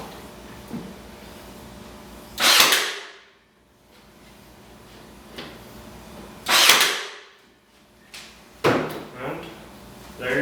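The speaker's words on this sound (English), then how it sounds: "I can fire my nails in a line without having to worry about where they are going." Nail gun driving nails into a winterproof beehive roof: three sharp pneumatic bangs spaced a few seconds apart, each followed by a brief hiss, with quieter handling noise between.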